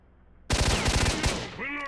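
Gunfire in Stalker: Shadow of Chernobyl: after a quiet moment, a loud, rapid automatic burst of shots erupts up close, followed by a brief lull and ringing echo as the firing trails off.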